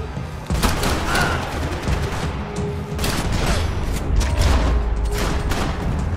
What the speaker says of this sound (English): I love shooting the shit out of them after you've killed them